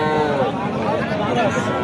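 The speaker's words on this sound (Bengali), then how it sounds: "ছয় মাসের একটা বাছুর" A six-month-old calf of a cross breed lows at a busy cattle market, a short moo heard under dense crowd chatter and general market noise.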